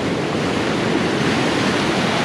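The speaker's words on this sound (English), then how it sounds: "Comes the wave." A wave breaks on the rocky shore at Bodega Bay, California, a loud, close wash of rushing surf and foam that fills the whole moment without a break.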